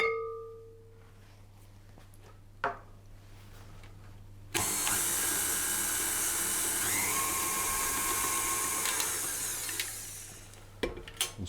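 An electric mixer creams chocolate shortbread dough of butter and sugar, switching on after a quiet start and whirring steadily and close for several seconds before winding down.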